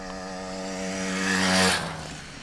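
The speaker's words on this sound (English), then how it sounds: "A motorbike. Like an actual bicycle with a motor on it." A small two-stroke engine on a motor-fitted bicycle buzzes past nearby, its raspy whine swelling to a peak and dropping in pitch as it goes by, with no talk over it.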